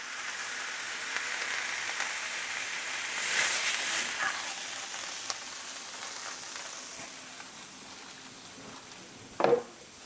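Burger-style ground meat smashed down on a hot cooking surface for browning, sizzling with a steady bright hiss that swells briefly around three seconds, then settles, with a short clatter near the end.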